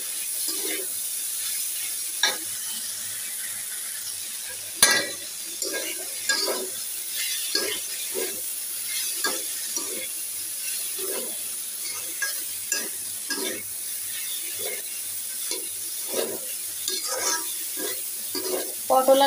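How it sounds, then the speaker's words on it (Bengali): Pointed gourd and potato bhaji frying in a pan gives a steady close sizzle throughout, broken by frequent scraping stirs of a spatula and an occasional clink, with no speech. "পটল আর আলুর ভাজি হচ্ছে।"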